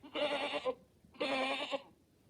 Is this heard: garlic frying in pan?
no